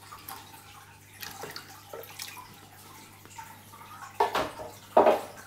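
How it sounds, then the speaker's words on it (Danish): Water ladled from a bucket over a dirty filter sponge from a Fluval Flex 123-litre aquarium, giving quiet trickles and then two louder splashing pours near the end, with no talking. "så vi gør lige det, at vi øser lidt vand over"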